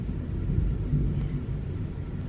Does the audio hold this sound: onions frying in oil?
no